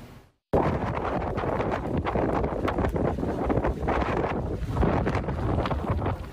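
Strong wind driving snow across open ground during a winter storm in Buffalo, a loud continuous roar and buffeting on the microphone that begins abruptly after a brief silence and holds steady, with no voices.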